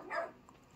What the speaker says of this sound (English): And the barking is Penelope